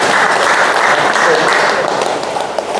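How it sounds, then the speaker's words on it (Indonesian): An audience claps for a student group in a classroom, steady loud applause that fills the room and begins to thin near the end. "berikan aplaus dulu kepada kelompok 3"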